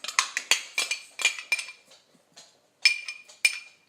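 A small spoon clinks repeatedly against a little dish as it is scraped empty, sharp bright taps in quick irregular bursts, a pause, then a few more close, crisp clinks with no talking.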